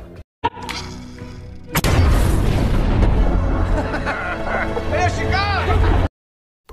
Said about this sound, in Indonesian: Setelah itu, dinamit pun diledakkan